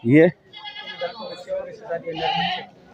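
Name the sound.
goat bleating at a livestock market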